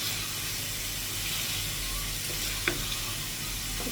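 Chicken leg pieces, cut small, fry in hot oil in a home kitchen with a steady, broad sizzle throughout and a brief clink of a utensil near the end.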